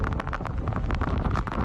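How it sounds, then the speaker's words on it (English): Howling blizzard wind gusts in Alaska, rough buffeting rumble battering the microphone in rapid irregular bursts, loud and close throughout. "With wind gusts up to 80 miles per hour"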